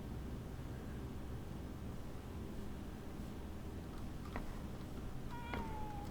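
A cat in the game Crime Scene Cleaner gives a couple of short meows late on, fairly faint over a steady, loud hiss of background noise.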